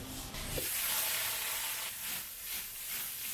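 Shrimp frying in oil in a hot wok gives a loud, continuous sizzling hiss with a brief stir near the start, close and with no voices.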